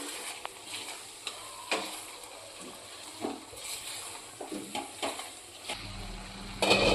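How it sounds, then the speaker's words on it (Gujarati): Jaggery being stirred into a green turmeric curry in a pan, with soft scraping and faint sizzle, quiet and close, with occasional light clicks of the spoon against the pan. "હવે આપણે ગોળને સારો એવો મિક્સ કરી લઈશું"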